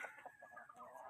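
A Brahma chicken clucks in a quick run of short, close notes, with other birds faintly chattering behind it.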